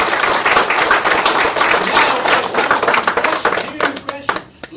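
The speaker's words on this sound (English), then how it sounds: "Give them a round of applause." A museum audience at a comedy talk breaks into a dense burst of applause, many hands clapping loudly together, then thinning into scattered claps as it dies down.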